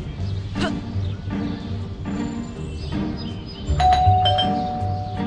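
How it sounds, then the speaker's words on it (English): A school bell chimes in the video game Scary Teacher 3D, a ding-dong ring over a steady game-room hum, with a brighter ringing tone near the end. "There goes that stupid bell again!"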